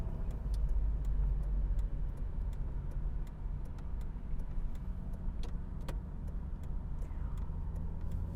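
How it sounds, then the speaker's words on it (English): A Mk3 Ford Granada estate with its Cologne V6 engine running at a steady low rumble, with a light regular ticking over the top throughout, no one speaking. "Once more before we end, it's got some punch to it, that Cologne V6."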